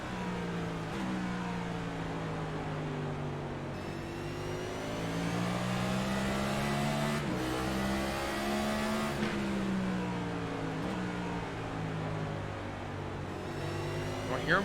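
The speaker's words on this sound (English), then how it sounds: "I hear him downshift going to the front." A race car at Martinsville Speedway downshifts and revs, engine note rising and falling steadily, moderately loud and continuous throughout.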